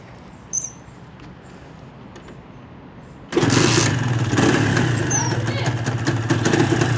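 Honda LS125 motorcycle engine catching after a brief quiet moment and a click, then running at a steady, fairly loud idle with a rough, buzzing note.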